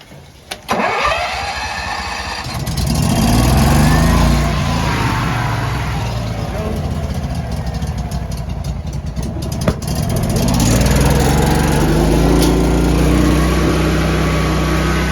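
A Honda EB11000 generator running on natural gas cranks briefly, catches with a pop and settles into a loud, steady engine roar close by, with a small backfire-like bump partway through.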